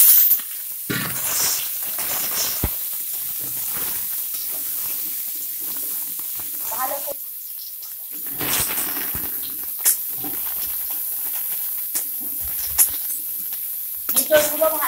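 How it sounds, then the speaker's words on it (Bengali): Pieces of young jackfruit frying in hot oil in a home kitchen, giving a low steady sizzle and hiss with occasional pops and clatters of stirring, and a voice talking over it at times. "ওই তেলের মধ্যে আমি হেঁচড়গুলো ভেজে নেব"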